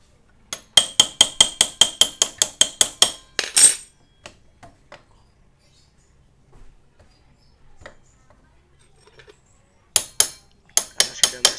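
Someone hammers while fitting front brake pads on a Honda Beat FI scooter: a rapid run of about a dozen sharp metallic taps, then a pause with faint handling clicks, then more quick hammer strikes.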